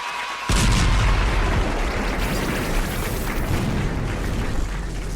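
A sudden booming blast kicks in and rolls into a sustained, loud, rumbling roar that fills the rest of the clip.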